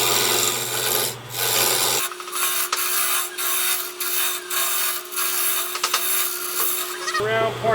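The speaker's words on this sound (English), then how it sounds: "The next tool I'm going to use to get this round part, I'm going to use a round nose chisel." A round nose chisel cuts into spinning wood on a lathe while turning a gumball machine part, a loud steady rasping scrape broken by short pauses and bursts, with the lathe motor humming underneath.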